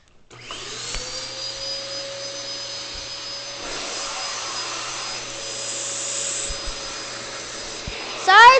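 A household vacuum cleaner runs loud and steady with a high whine, close by and continuous, with a louder burst near the end.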